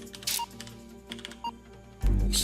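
Quiet typing on a computer keyboard while entering a school zip code, a few soft scattered key taps followed by a louder burst of clicks at the end, no speech.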